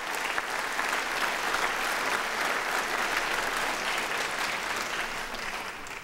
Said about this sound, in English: Let's give Dwayne and the team at Gardner Denver Thomas a round of applause for picking Louisiana